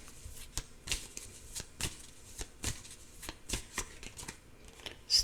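Cards being shuffled close up before one is drawn, a steady run of crisp riffling snaps and soft flutters that comes in repeated bursts, with no voices.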